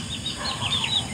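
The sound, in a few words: chickens clucking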